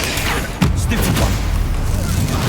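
Bombarda explosion spell cast in the Hogwarts Legacy video game, with a sudden booming blast about half a second in, followed by a rumbling, crackling tail amid background game noise.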